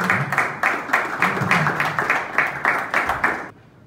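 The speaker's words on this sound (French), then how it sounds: "sous nos applaudissements, et on encourage M. Constantin" Audience at a student youth forum breaking into applause, a dense steady burst of clapping lasting a few seconds before stopping abruptly.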